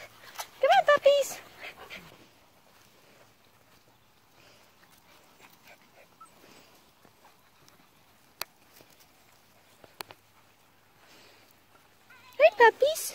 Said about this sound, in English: Here come all the puppies.